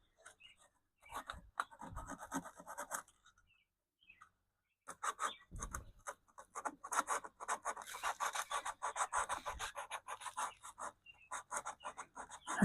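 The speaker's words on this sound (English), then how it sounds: "all I'm doing is sanding that little piece, that little chip" Sanding a chip on a Philco tube radio cabinet by hand, with close, dry rasping strokes in short bursts at first and then a steady back-and-forth rhythm.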